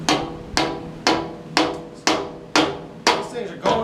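New teeth are hammered into a sawmill blade: seven or eight sharp, ringing metallic blows land close by at a steady pace of roughly two per second.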